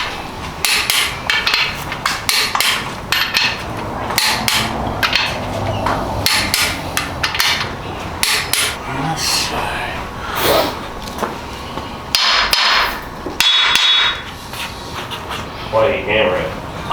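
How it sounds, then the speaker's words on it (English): Hammer taps seating a crankshaft in a big-block Chevy engine being built for a jet boat, a series of sharp metallic knocks amid workshop clatter with people talking throughout. "Why are you hammering? I'm seating that."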